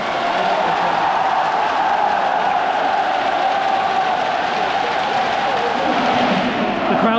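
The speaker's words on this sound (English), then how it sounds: "The crowd doesn't just sing, it also moves as they're shouting" A huge stadium crowd in North Korea sings and shouts in unison, forming a dense, loud, sustained wall of voices that holds steady for several seconds.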